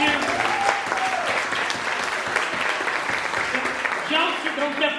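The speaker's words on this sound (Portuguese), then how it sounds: "Um salva de palmas pro Danilo, gente." Steady audience applause on a night talk show filling the whole stretch at moderate level, with voices and a few calls audible over and under the clapping.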